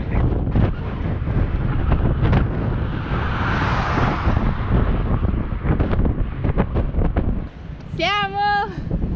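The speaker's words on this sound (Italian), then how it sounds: "C'è molto vento! Moltissimo." Strong wind buffets the microphone outdoors near Neum on the Croatian coast, a loud continuous rumbling roar with gusting bursts throughout, while a voice talks over it and briefly rises in pitch near the end.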